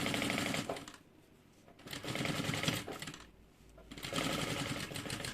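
A sewing machine runs in three bursts while stitching a fabric bag, its rapid needle clatter loud and close, with short quiet pauses between runs as the work is adjusted.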